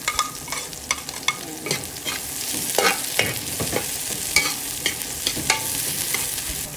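Onions sautéed with ginger and garlic in a pan, a steady sizzle broken by repeated scraping strokes of a spatula, close and fairly loud with no talking.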